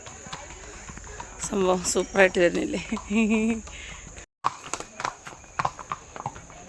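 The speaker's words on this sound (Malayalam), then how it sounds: "എൻ്റെ ബാക്കിൽ 2 കുതിരകൾ വരുന്നുണ്ട്" Two horses walking along a hill-station path, hooves clip-clopping in an uneven rhythm at mid distance, heard beneath someone talking, with a steady high insect-like whine throughout.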